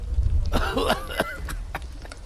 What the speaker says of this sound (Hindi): अचानक से उनमें से एक आदमी को जोर से खांसी आने लगती है।